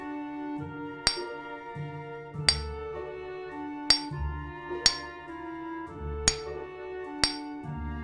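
Sharp metallic clanks of hammering in a video game strike six times at a fairly steady pace over looping background music.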